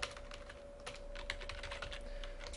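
Rapid, uneven clatter of keys on a computer keyboard, steady and fairly close, with a faint constant hum underneath and no voices.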